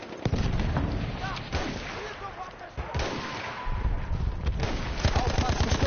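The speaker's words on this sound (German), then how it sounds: "Maschinengewehr!" Heavy machine gun fire and scattered gunshots in Battlefield 1, loud rattling bursts with booms and battle clamour as soldiers shout.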